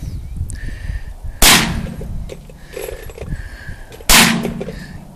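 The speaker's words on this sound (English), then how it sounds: "Finally found the gun my mother-in-law loves to shoot." Two sharp, loud gunshots from a Mossberg tactical .22 rifle fired outdoors, spaced about two and a half seconds apart, each with a short decaying tail over a low background rumble.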